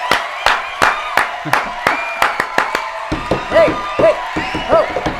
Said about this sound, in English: let's give you a round of applause to the front of the class